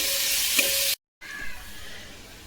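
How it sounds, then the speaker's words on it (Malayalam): Onions sautéing in a pan for a village-style country chicken curry, a bright steady sizzle that cuts out briefly and then returns softer and duller. "അപ്പോൾ അതിലേക്ക് സവാള നമുക്കൊന്ന് വഴറ്റിയെടുക്കാം"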